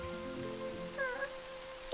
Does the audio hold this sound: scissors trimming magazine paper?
no